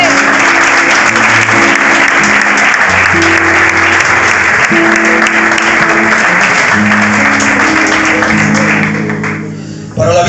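A church congregation applauds loudly and continuously, a thick wash of clapping over sustained keyboard chords, thinning out near the end.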